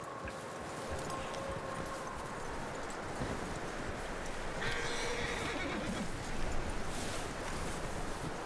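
Horse hooves clip-clopping with a whinny in the Red Dead Redemption 2 video game, a steady moderate hoofbeat over an airy, wind-like background with no talk.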